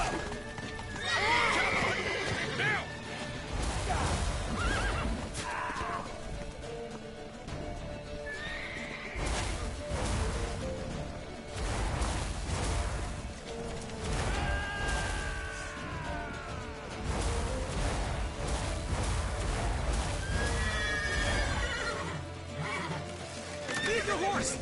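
Horses in The Witcher 3 video game, with repeated loud neighs and whinnies over continuous galloping hoofbeats, mixed with battle noise and shouted voices throughout.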